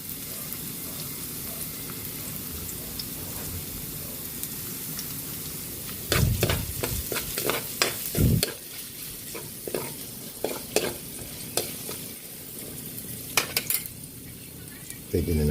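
Garlic and ginger frying in a pan for ginataang lobster, a steady sizzle broken by repeated scraping and clinking strokes of a utensil stirring against the pan.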